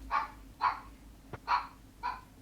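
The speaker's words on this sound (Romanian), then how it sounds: "Câinii, bă!" Four sharp dog barks ring out one after another at a moderate distance in Counter-Strike 2, with a faint click between them and no talking.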